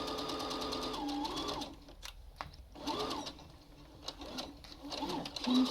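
A sewing machine stitches elastic onto a cloth face mask, running in steady whirring bursts with brief pauses between passes, close and fairly quiet.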